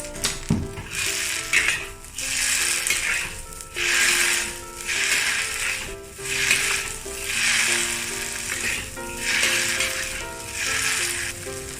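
Bean sprouts sizzling and frying in a hot wok for beef chow fan, a loud continuous crackle swelling in regular waves as the ingredients are tossed, with no talking.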